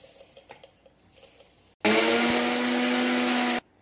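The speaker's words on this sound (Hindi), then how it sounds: "बस इन मिक्सर ग्राइंडर च पा के असी इहदा पाउडर बनाना सी" Mixer grinder grinding roasted cumin and black pepper into powder, starting abruptly after a few quiet clinks and running loud and steady for about two seconds before cutting off.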